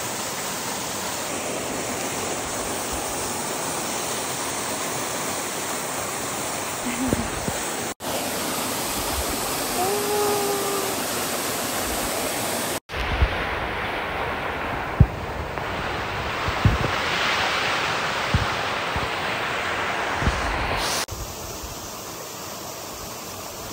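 Kegon Falls waterfall in Chichibu, Saitama, roaring steadily as loud, continuous rushing water with some wind buffeting, heard alone without talk.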